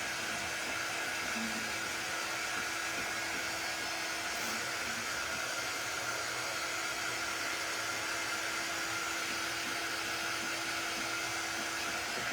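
Hair dryer blowing on painted strawberry decor, a steady whirring airflow with a constant motor hum, close and unbroken throughout with no talking.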